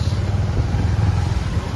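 A motorcycle engine runs close by in a short burst, with a low, throbbing rumble and slight revving over a busy street outside an exhibition in Pune.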